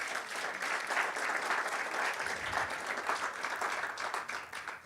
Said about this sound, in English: do give yourself a round of applause